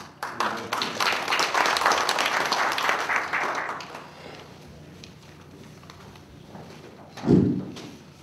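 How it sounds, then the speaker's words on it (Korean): Audience applauding at a New Year ceremony held by a veterans' and security association, a dense round of clapping lasting about four seconds that dies away, followed by a quiet stretch and a single dull thump. "오늘 박수를 보내주시고"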